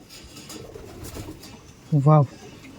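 A single loud Madras pigeon coo sounds near the end, close to the microphone, after a stretch of faint background murmur.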